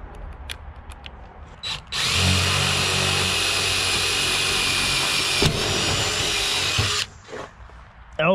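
A loud power drill with DeWalt impact-ready drill bits whirs steadily for several seconds while roofing a post and beam barn, bracketed by short clicks and handling noises before and after.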